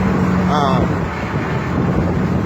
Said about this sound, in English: the muffler, the exhaust is cut off at the muffler, at the transfer, you know, at the cross member for the transfer case, so there's no tailpipe